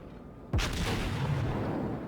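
Main guns of a South Carolina battleship in World of Warships let off a single loud volley: a sudden deep boom, then a long rumbling roll that carries on to the end.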